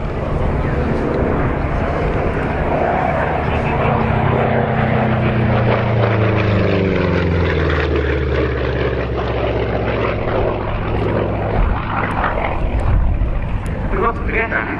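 A Republic P-47 Thunderbolt flies past at the RAF Cosford Airshow 2025, its propeller engine a loud, continuous roar that swells and shifts in pitch as it passes, with a voice talking over it.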